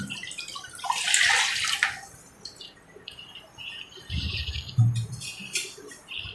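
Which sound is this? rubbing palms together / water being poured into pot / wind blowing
water being poured into pot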